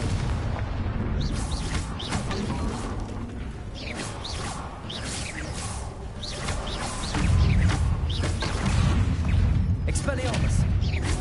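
Repeated Confringo blasting spells explode in the Hogwarts Legacy video game, booming and whooshing through a dense, continuous wash of battle noise, with a voice talking over the action.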